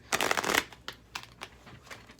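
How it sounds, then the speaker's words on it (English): Tarot cards shuffled by hand: a dense riffling burst up close for about half a second, followed by several shorter, softer card flicks spaced apart, with no talking. "If I can shuffle the cards today"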